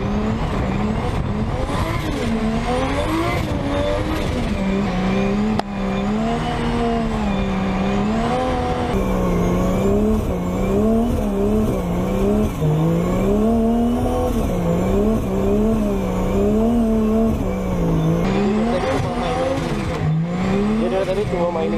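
A drift car spins donuts, its engine revving in rising and falling surges with tire squeal, loud and close, as people talk over it.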